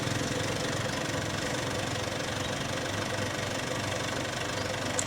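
A Yamakta Y80 film projector runs with a steady mechanical whirring and rattling, close and even, with a fast rhythmic clatter underneath and no voices.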